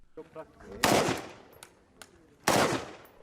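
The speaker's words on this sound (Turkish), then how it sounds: "Rum Milli Muhafız Ordusu'nun silahlarını kuşanıp hedeflere atış yaptı." Military rifles fire at targets on a range, two sharp loud bursts of gunfire about a second and a half apart, each trailing off with echo, with faint softer sounds between them.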